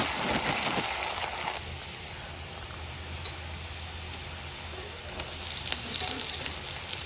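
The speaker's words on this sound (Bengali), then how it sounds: "পেঁয়াজটা অ্যাড করে ফ্রাই করব আমরা।" Onion frying in a pan with half-boiled potatoes, producing a steady close hiss and crackle throughout, with brief stirring or clatter sounds near the end and no talk.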